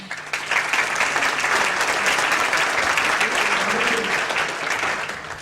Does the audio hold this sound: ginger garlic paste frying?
no